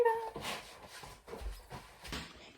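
A house cat meows a few times nearby, short plaintive calls spaced irregularly, fairly faint against a quiet indoor room.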